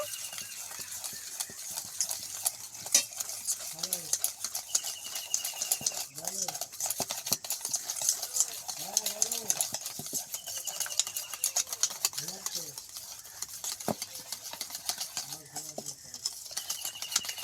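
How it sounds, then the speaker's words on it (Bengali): A spoon stirring a sugar and milk mixture in a pan, making repeated scraping swishes in an uneven rhythm, close by and moderately quiet over a steady background hiss. "এবার সব কিছু একসঙ্গে মিশিয়ে নেব।"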